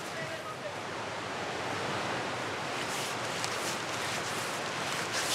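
Rapids and waterfalls on a river in Suriname give off a steady, dense roar of rushing water that holds level and unbroken throughout.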